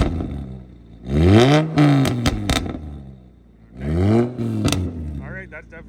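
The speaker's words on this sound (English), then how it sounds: "So now we're gonna get a couple revs in. It is really loud" A car engine revs hard twice, each a loud rising and falling vroom a few seconds apart, with voices heard between and after the revs.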